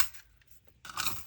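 Scissors snip through small scraps of jewelry-making material, a short close crunch followed by a brighter, louder cut near the end, with no talking.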